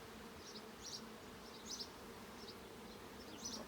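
Honeybees buzzing in an opened hive brood box during an inspection, a steady low drone with occasional sharper individual bees passing near, no talk.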